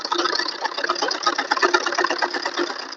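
Sewing machine stitching around the pleated hem of a four-panel salwar, a steady close rapid whirring chatter of the needle running continuously without pause.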